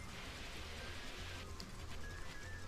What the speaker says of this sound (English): I'm not sure if the rain is timed or if you just gotta get a certain distance away